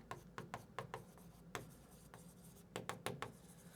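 Marker or pen strokes on a board during a semiconductor physics lesson, a quiet series of short scratchy taps in irregular bursts, close and faint with no talk.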